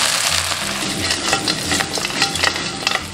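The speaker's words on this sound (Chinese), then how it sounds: "先把这个羊肉煸个1分钟" Lamb stir-fries in a hot wok with a steady, loud sizzle and crackle, and a spatula scrapes and stirs rhythmically over it close up.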